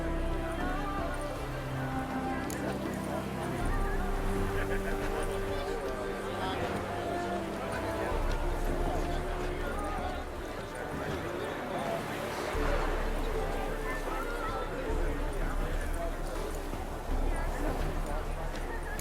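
Horse hooves clip-clopping in The Witcher 3: Wild Hunt during a scene with horses, a steady rhythmic trot running through the whole stretch under ongoing conversation and a soft ambient background.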